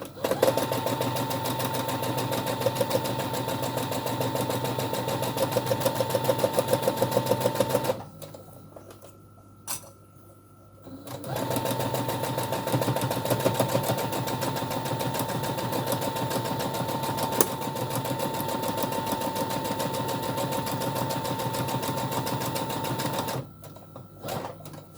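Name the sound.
sewing machine stitching fabric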